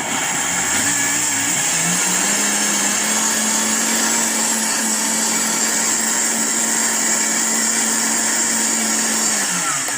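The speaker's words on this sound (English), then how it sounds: "Don't want to cook it, just want it all the way blended." Dried garden celery being ground to powder in a blender, motor spinning up quickly then holding a loud steady whine for about eight seconds before winding down, close and uninterrupted, with no talking.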